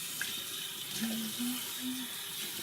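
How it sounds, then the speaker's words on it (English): A sink tap runs steadily while a face is washed, a continuous close rush of water with a faint low hum and a few soft tonal notes under it. "Let me just wash my face."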